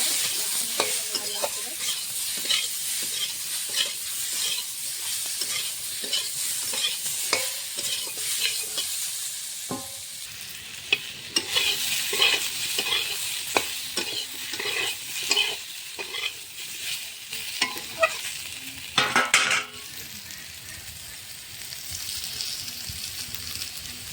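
Potatoes with turmeric powder fry in a pan for a fish curry, a steady close sizzle broken by frequent scraping stirs and a few sharper knocks against the pan.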